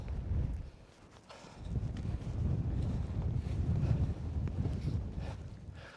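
Strong wind gusts buffet a mountain campsite in the Lake District, a loud low rumbling roar that dips briefly then surges steadily, no voices.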